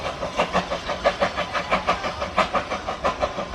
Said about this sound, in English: The whipsnake train goes past